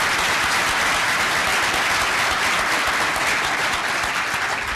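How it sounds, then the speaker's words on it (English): Sustained, dense audience applause at a symposium, loud and continuous throughout with no talking on top. "now just one more round of applause for Chief Roper."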